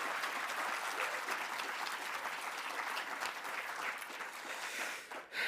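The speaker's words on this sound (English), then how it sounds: "please, massive round of applause for Charlene" Sustained applause from an awards ceremony audience, a dense even clatter of many hands that carries on for several seconds before briefly dipping near the end.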